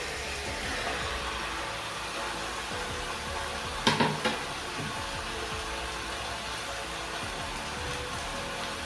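Chicken pieces hit a hot pan with fried potatoes for lemon pepper chicken, a steady low sizzle and hiss with a brief clatter partway through.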